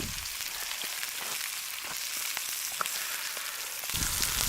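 Butter sizzling in a hot pan alongside a ribeye steak over an outdoor bushcraft fire, a steady crackling fry that holds throughout and swells a little louder near the end.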